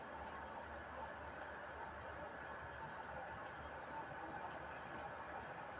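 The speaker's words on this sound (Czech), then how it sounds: "Blbej vlak, nesnáším vlaky." A train in a video game rumbles steadily and faintly throughout, a continuous low rolling drone with no distinct horn or clacks standing out.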